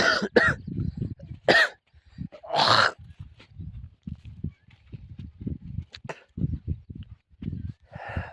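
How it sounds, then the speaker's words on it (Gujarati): Several sharp coughs from a cold burst out near the start, followed by scattered soft knocks and shuffling sounds in a quiet space. "મજા બગડી ગઈ છે મિત્રો શરદી ખાંસી થઈ ગઈ છે મિત્રો"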